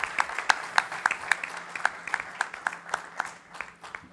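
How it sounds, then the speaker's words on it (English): Audience applause at a finance conclave, fairly sparse and uneven with distinct individual claps standing out over a thinner background patter, moderately faint and steady over a few seconds with no talk. "we all deserve a big clap for this"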